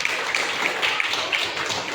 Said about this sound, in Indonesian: go tepuk tangan untuk kita semua